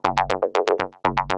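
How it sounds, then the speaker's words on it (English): A remix plays a didgeridoo sample as a series of quick, punchy rhythmic drones, about nine close, loud pulses in a bouncing groove with a short gap before the last few. "add some more drums and like some didgeridoo,"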